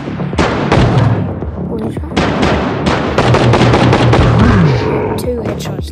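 Gunshots ring out during a boss fight in the Johnny Trigger mobile game, a rapid series of loud bangs and thumps over game music, with someone talking.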